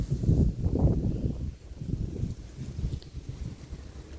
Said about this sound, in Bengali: বাতাস আমার ভয় পাওয়া দিতেছে এরকম কি শোষো শব্দ শ্মশানের মতন শব্দ হইতেছে